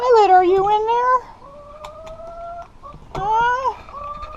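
A hen tucked beneath a backyard coop gives loud, drawn-out squawking clucks in two close bursts, with a few softer notes between them, nearby and clear.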